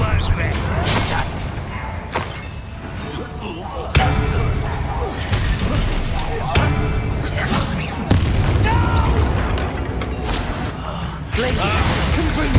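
Repeated spell blasts, ice and fire casts, in the video game Hogwarts Legacy: heavy booming impacts and crashes arrive every few seconds over a dense, loud battle mix, with character voices speaking throughout.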